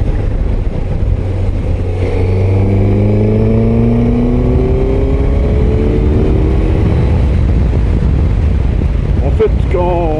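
A Suzuki GSX-S 1000 GT motorcycle accelerates hard through its gears, engine pitch climbing in rising sweeps under heavy wind noise, heard from the rider's position, then easing off toward the end.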